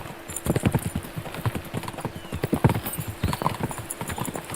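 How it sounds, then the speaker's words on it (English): Horses gallop in Kingdom Come: Deliverance 2, steady hoof clip-clops pounding close and loud through the whole stretch, with an occasional whinny. "We should spur the horses on."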